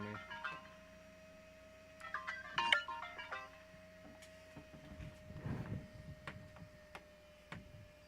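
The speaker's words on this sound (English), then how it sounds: "Don't know if you can hear that, but my cousin is calling me." A mobile phone ringtone for an incoming call plays indoors as a quiet, repeating melodic pattern over a steady tone, with a low rumble partway through.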